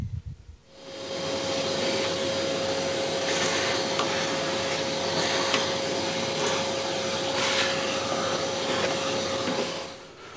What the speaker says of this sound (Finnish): eli täytyy ne nyt imuroida sieltä ihan ensimmäisenä pois